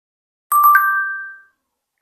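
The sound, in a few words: AI-generated notification bell sound effect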